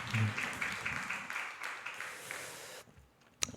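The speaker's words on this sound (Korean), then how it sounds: "우리 주님께 영광의 박수 올리겠습니다." Church congregation clapping during a Wednesday prayer service, a dense round of applause that keeps going for almost three seconds, then cuts off into near quiet with a brief knock at the end.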